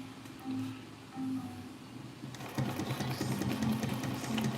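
Sewing machine back-stitching across a weighted grill cover, short faint whirring bursts at first, then a longer, louder continuous run of stitching in a quiet room.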